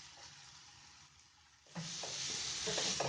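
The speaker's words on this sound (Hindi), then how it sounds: "अब यहाँ पर मीडियम फ्लेम पर इसे बगैर कवर किए हुए 5 मिनट तक कुक होने देना है" Vegetables with vinegar cook uncovered in a pan over a medium flame for crepe filling, a soft steady sizzle that swells louder midway with stirring scrapes on top.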